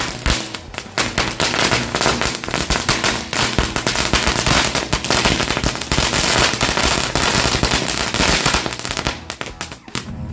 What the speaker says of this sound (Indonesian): kita lanjut menyalakan mercon panjang green lighting